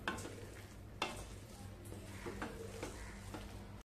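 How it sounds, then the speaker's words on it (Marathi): Potatoes and fenugreek greens being stirred in a pan over medium heat, scraping spatula strokes and soft sizzling repeating steadily in close, moderately quiet passes. "बटाटा आणि भाजी चांगली मिसळून घ्यायची"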